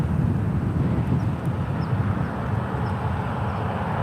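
A Delta airliner takes off from runway 1 right at San Francisco airport, its engines a loud, steady low roar with a broad rumble heard from a distance, no voices over it.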